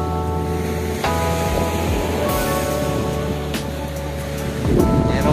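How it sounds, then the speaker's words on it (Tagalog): Sea waves wash in at the beach on a calm, breezy midday, a loud steady surf roar close by with gusts of wind buffeting the microphone. "At ayan ang malalim na dagat. Hindi po masyadong maalon."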